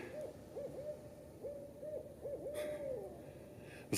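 An owl hoots in a short series of soft, wavering calls, some doubled, at moderate distance against a quiet, faintly hissing background, with a brief rustle near the end.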